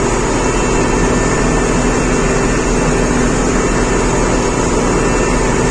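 Combine harvester engine roaring steadily as heard from inside the cab with the door open, a loud continuous low drone with broadband rumble and no breaks.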